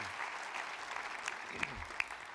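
Audience applause fills a graduation ceremony hall, a steady wash of many hands clapping at moderate level with a few sharper individual claps standing out near the end.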